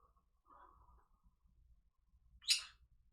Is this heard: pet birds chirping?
yes